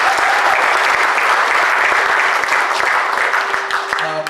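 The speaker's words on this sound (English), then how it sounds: "can we give her a round of applause?" Enthusiastic audience applause fills a room at a graduate recital for a community music master's program, loud and continuous throughout before easing slightly at the end.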